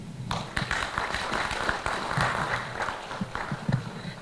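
A conference audience applauds for a Nigerian Revenue Service representative, a dense, sustained clatter of many hands clapping steadily throughout, near and fairly loud, with no voices rising above it.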